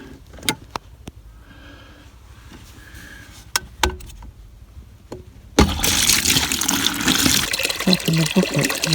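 Water gushes loudly and steadily into a bucket on a farm after a stretch of quiet scattered knocks and clatter, the pouring continuing to the end.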